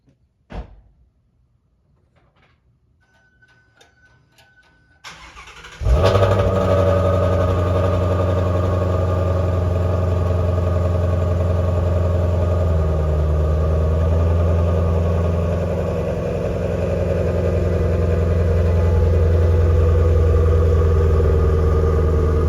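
A Ford Shelby GT350 with resonator delete and MBRP active exhaust over stock mufflers fires up after a few quiet clicks, then settles into a loud, steady, deep idle rumble that continues without a break.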